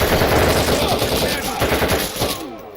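Rapid gunfire and a flashbang grenade in the tactical shooter Door Kickers 2 during an FBI HRT mission, with dense, continuous automatic bursts close and loud that thin out near the end.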